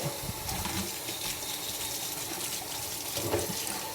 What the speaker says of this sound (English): So now we got all the vegetables rinsed off